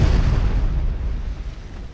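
Naval shell explosions from 9-inch guns in the video game Ultimate Admiral Dreadnoughts, a heavy, rumbling boom that stays loud and slowly fades over two seconds, with no voices.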